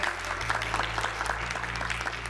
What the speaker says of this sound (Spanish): Un aplauso nuevamente para Bellía.